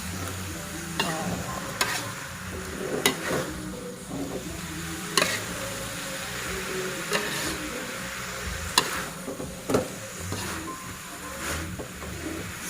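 Vegetables stirred in a pan with a little water, a soft continuous sizzle and scraping under periodic sharp clinks of a utensil against the pan, fairly quiet and close.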